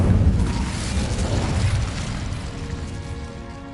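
In Hogwarts Legacy, the Incendio fire spell goes off in a loud, deep whooshing burst that rumbles and gradually fades out.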